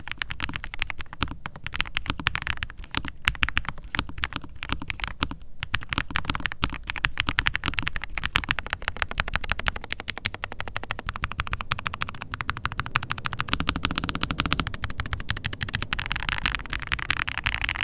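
Rapid typing on a Redragon Eisa K686 Pro mechanical keyboard with pre-lubricated switches and 45-gram springs, a dense, continuous stream of close, crisp clacks with no pauses.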